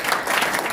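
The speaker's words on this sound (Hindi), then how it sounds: "तालियां मारो यहाँ पे।" An audience claps together during a product awareness session, a dense, steady burst of applause that sounds fairly close and lasts under a second.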